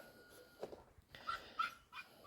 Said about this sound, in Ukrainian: Ось такі три песики.